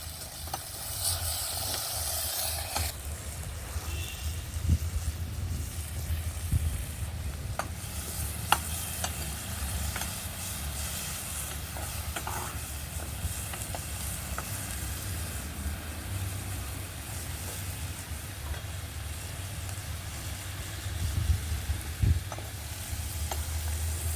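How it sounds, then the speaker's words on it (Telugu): Green and dried chillies, garlic, cumin and mustard seeds frying in oil for a brinjal chutney, a steady close sizzle with occasional stirring scrapes and small pops throughout, no voices. "అని బాగా ఫ్రై చేస్తాను."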